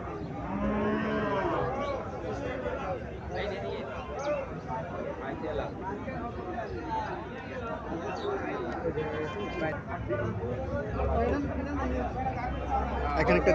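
A local desi cow at a cattle market mooing in low, drawn-out calls amid steady crowd chatter and other livestock noise, voices talking close by throughout.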